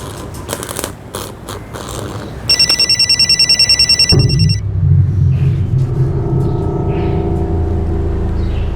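A telephone rings loudly in a rapid, trilling electronic burst lasting a couple of seconds over steady low rumbling background noise in a crime drama scene.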